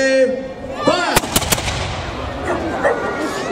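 Musket volley at an English Civil War reenactment during a heritage festival: a cluster of three or four sharp black-powder shots in quick succession, loud and outdoors, with shouting voices before and crowd chatter after.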